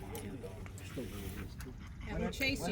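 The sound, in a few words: dog panting and whimpering during training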